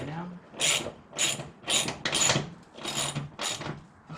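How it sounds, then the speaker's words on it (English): Wrench tightening 13 mm fender bolts on a Datsun 510, heard as six rhythmic, close ratcheting rasps, each a short grinding sweep with brief pauses between. "These are 13 millimeter. And just like I'm turning both"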